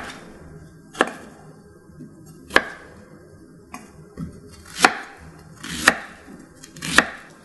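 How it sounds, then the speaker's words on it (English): A knife chops vegetables on a cutting board, onion, garlic and ginger for a Korean braised short rib sauce, in sharp, isolated close thuds spaced about a second apart, with no voices. "let's chop it up a little bit"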